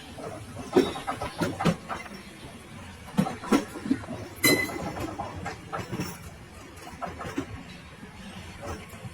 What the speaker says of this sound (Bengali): এই মুহূর্তে ঢুকে গেছে ট্রেন।